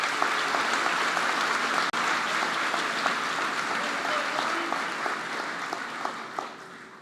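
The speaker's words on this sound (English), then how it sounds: "Please help me thank them with a round of applause." Graduation audience at a Huntingdon Area School District ceremony applauds school board members, a steady, dense wash of clapping from a large crowd that carries on throughout and slowly tapers near the end.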